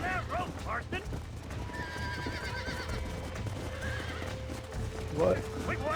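A roped horse whinnies loudly in Red Dead Redemption, with sharp neighs at the start and another near the end over continuous hoofbeats and game ambience.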